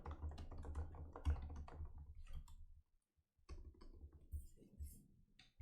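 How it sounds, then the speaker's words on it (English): Rapid clattering keystrokes of code being typed on a computer keyboard, close and dry, pausing briefly before resuming in quicker bursts. "So let me start by typing in some code."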